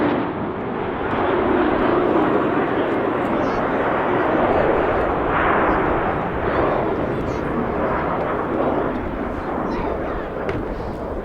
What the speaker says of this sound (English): this is the 2015 Hawk T2 roll demonstration